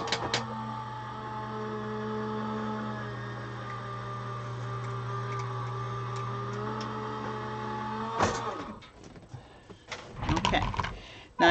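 A Gemini die cutting machine embosses an Anna Griffin die, giving a steady motorized whir with a low hum for about eight seconds. The whir then stops, followed by clattering handling noises and rustling.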